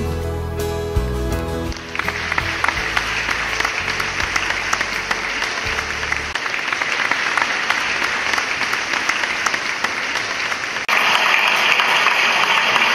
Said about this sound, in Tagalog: Yung palakpak na yun, saan galing?